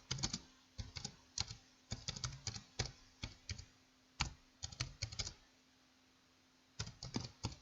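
Keys tapped on a computer keyboard while typing a test question, coming in uneven bursts of quick clicks separated by short pauses, fairly close and moderately loud with no voices.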